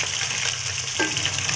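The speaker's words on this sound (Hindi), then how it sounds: "इन सब चीज़ों को अच्छे से भून लेंगे। अदरक लहसुन को 1-2 मिनट तक हम भून लेंगे।" Minced meat keema fries in a pan with ginger and garlic and a continuous close sizzle, and a brief scrape sounds about two-thirds through.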